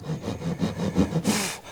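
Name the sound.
hand saw sawing wood for dovetail joint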